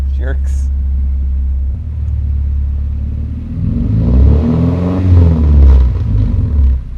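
Tuned car engine with ECU modifications revving hard during a launch control test, a steady low drone that swells into loud, rising revs toward the end, with a voice talking over it.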